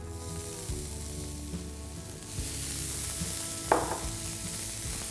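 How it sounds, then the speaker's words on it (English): Soya granules being sautéed with spices in a pan for soya aloo tikki, giving a steady close sizzle with occasional stirring scrapes and a brief clatter near the end, no talking. "You just saute this really well. Now to this, I'm going to add a 1/4 cup of soya granules."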